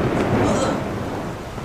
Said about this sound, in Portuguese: Ah, começou a chover.